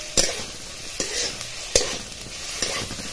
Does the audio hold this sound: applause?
no